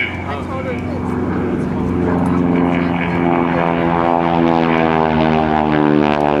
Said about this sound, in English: United States Air Force T-6 Texan 2 demonstration.